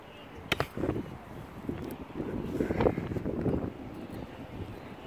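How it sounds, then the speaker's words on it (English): Wind gusting across the microphone in low rumbling bursts, rising and easing over a few seconds, with a couple of brief knocks near the start. "It's getting windy."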